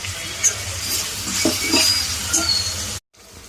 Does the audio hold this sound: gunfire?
no